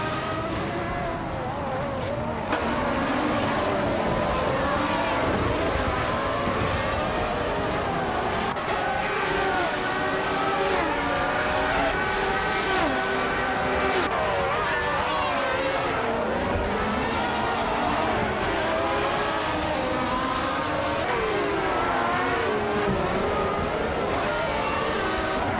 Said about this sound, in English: Amy is leading the race in the Williams FW17